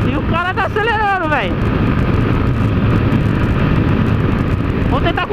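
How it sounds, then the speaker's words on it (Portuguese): Engine noise roars steadily, with rising whine sweeps of a car accelerating hard in a street race near the start and again at the end, over constant road noise. "E o cara tá acelerando"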